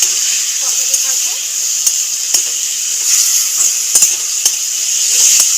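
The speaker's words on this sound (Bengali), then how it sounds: "সবটাকে ভালো করে নেড়ে চেড়ে কষাতে থাকবো।" Spiced masala for a papor curry being stirred and sautéed in a pan with a splash of turmeric water, producing a bright, hissing sizzle with sharp clicks from the spoon at irregular intervals.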